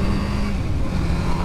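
A Yamaha R7 OW-02 motorcycle engine runs loud and close with a dense, steady roar that sounds lively at low revs. The engine note holds with no distinct pauses.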